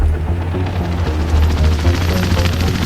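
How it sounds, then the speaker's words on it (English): Steady rhythmic thumping of a helicopter's rotor with a droning engine hum, moderately loud and continuous as it passes. "You'd hear helicopters flying overhead at night, buzzing across the city."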